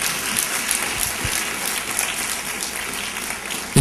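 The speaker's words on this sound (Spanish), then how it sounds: "Denle ese aplauso bien fuerte al Señor." A church congregation applauds loudly for the Lord, a dense, steady wash of clapping that carries on without a break and swells slightly at the very end.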